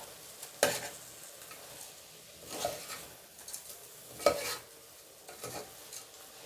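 Meal maker biryani being stirred in a pan, with four separate scraping, sizzling strokes spaced a second or two apart over a soft background hiss, close and fairly quiet.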